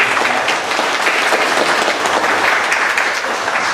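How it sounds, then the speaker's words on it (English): A town hall audience at a traffic safety meeting gives the mayor a round of applause, a loud, steady wash of many hands clapping throughout with no voices over it. "Let's give our mayor a round of applause."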